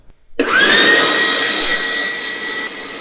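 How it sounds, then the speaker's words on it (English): Electric meat grinder grinding beef for burgers, switching on suddenly with a rising motor whine that settles into a loud, steady whirring hum for a few seconds. "Now I'm gonna take all this beef here and hold it here and slowly start to feed it through for the final grind."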